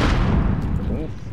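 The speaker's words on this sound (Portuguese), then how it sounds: "Lançando granada." A grenade explodes in a first-person shooter video game, a loud, close, rumbling blast that fills the short moment and fades quickly.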